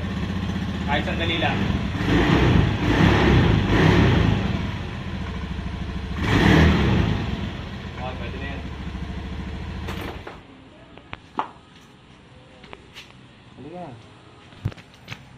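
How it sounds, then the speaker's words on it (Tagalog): A Honda Beat scooter engine warming up idles and revs in bursts, loud and close, while a person speaks briefly; the engine then settles and fades to quieter clicks. "warm up muna natin yung makina."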